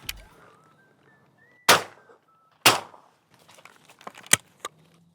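Two sharp, loud shotgun blasts a second apart during an afternoon of pigeon shooting outdoors, each with a short echoing tail, followed by fainter clicks and rustling of the gun being handled.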